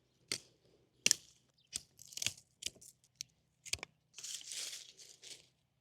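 Pruning shears snip through dead rose canes in a garden, giving several crisp, close cuts with short rustling between them and a longer crunchy rustle near the end.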